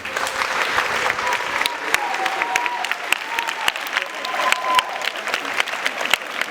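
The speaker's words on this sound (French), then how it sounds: "Si vous êtes d'accord avec moi, applaudissez." Parents gathered at a Kinshasa school for the start of the school year applaud steadily and fairly loudly, a continuous crowd clapping with sharper individual claps standing out throughout.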